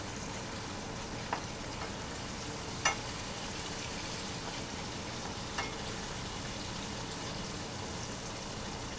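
Burger patties sizzle steadily in a pan, a soft, even hiss with occasional small pops, fairly quiet and without any talking.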